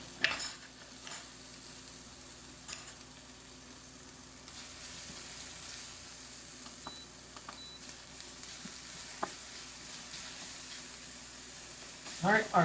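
Bacon frying in a pan on a budget home stove, a steady low crackling sizzle at moderate distance, with a few utensil clinks and light stirring scrapes.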